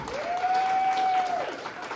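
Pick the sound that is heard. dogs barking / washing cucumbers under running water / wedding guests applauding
wedding guests applauding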